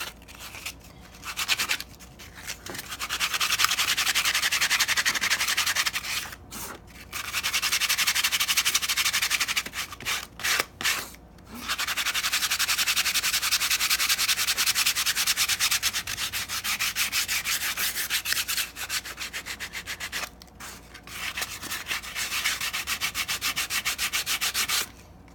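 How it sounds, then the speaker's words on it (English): Sandpaper rubbing over not-yet-dry textured paint for an aged finish, a close, steady rasping scrape in long strokes broken by short pauses. "Just take your sandpaper."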